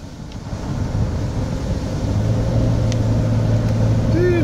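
Car driving along a road, steady engine and road rumble with wind noise, building slightly and holding close and continuous.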